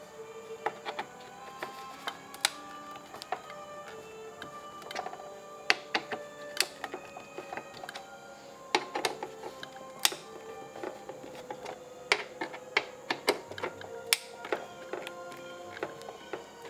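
Small screws and a thread-locked bolt are worked out of a turntable plate on a Panasonic SG-J500 portable hi-fi, giving sparse, close metallic ticks, clicks and light taps scattered at irregular intervals over quiet background.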